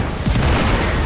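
Explosion of a gas station in the video game Just Cause 3, a single heavy boom with a rumbling low-end burst that stays loud and dense for about a second.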